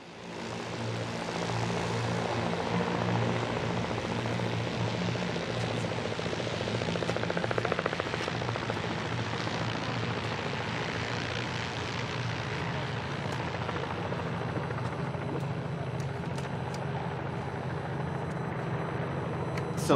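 A Volocopter electric air taxi flies overhead, giving a steady, moderately loud multi-rotor whirring hum that holds for the full twenty seconds with no talking.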